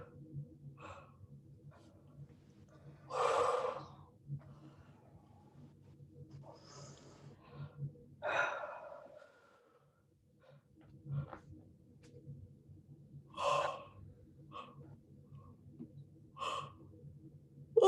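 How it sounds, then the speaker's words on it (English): Slow, deep breaths taken during a guided breathing session, several audible airy inhales and exhales spaced roughly five seconds apart, close but soft over a faint low hum, with no talking. "So just breathe that in."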